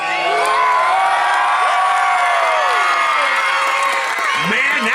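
A crowd at a motorsport monster truck show screams, cheers and whoops as loudly as it can, a sustained roar of many shouting voices with children's shrieks on top.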